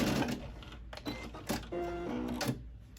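Short bursts of a sewing machine start and stop in quick succession as it back stitches at the end of a seam on a knotted fabric headband, close up and fairly quiet.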